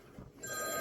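A telephone begins ringing partway through, a faint, steady electronic tone rising out of quiet room noise.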